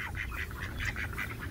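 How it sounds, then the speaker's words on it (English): Ducks quack loudly and close at a door, several overlapping quacks coming in quick succession. "The ducks are at the door."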